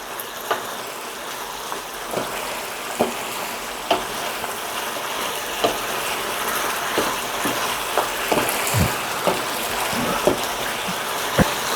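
Chinese-style braised pork ribs simmer in sauce in a pan, a steady soft bubbling and sizzling bed with scattered pops and a few louder taps throughout, no voices.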